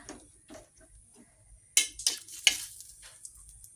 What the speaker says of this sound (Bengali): এবারে দিয়ে দিলাম শুকনো লঙ্কা